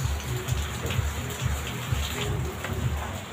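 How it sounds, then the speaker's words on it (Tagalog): Heavy rain pours nonstop outside a house, a loud, steady wash of water with splashing and dripping close by and no voices over it. "Umuulan mga guys, walang tigil ang ulan."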